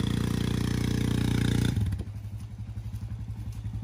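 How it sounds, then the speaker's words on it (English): An ATV engine roars steadily under heavy strain while dragging a whole tree as a load, then the pitch drops and the motor chugs in a rougher, pulsing rhythm, loud and close with no talk over it. "We need a stronger ATV."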